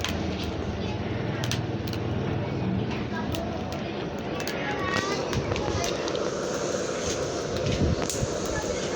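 A blower fans a charcoal stove packed with glowing embers, producing a steady, loud rushing roar with scattered crackles from start to finish.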